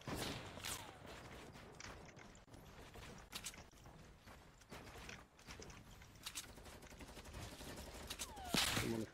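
Gunfire in the Fortnite video game: scattered sharp shots and clicky mechanical handling sounds amid game noise, with a louder burst near the end.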